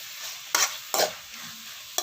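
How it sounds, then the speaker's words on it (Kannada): Shrimp fry in a pan with a soft steady sizzle, broken by three sharp scraping stirs, close by and with nobody speaking. "ಈಗ ಸಿಗಡಿ ಫ್ರೈ ಆಗಲಿ, ಕಲರ್ ಚೇಂಜ್ ಆಗಲಿ"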